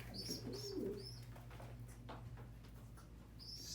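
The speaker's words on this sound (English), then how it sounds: "just to give you guys a good look at the birds outside." Pigeons coo softly inside a breeding loft, with a few brief higher chirps over a low steady hum, fairly close and without talking.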